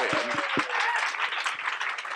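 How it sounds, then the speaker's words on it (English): A small audience applauding a performer, with steady clapping filling the whole stretch at moderate distance, a few voices mixed in. "round of applause to Maisie"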